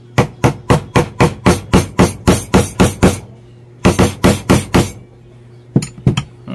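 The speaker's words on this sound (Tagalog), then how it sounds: "Dito itong patong lang sa itaas, tapos pupukin ng martilyo." A hammer drives a bushing into a Bosch angle grinder with a long run of loud, evenly spaced metallic strikes. A short pause follows, then another quick series and a couple of final taps.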